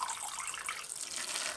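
Water poured onto the substrate of a tarantula enclosure to soak one corner, a steady close splashing trickle throughout.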